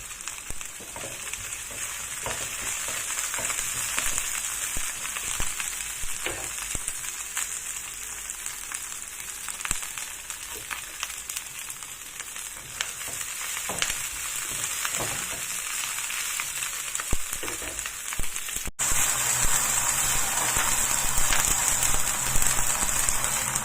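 Scallions sizzle in hot oil while chicken feet fry for a Chinese-style dish, a steady crackling hiss like rain running the whole time, growing slightly brighter toward the end with no talking over it.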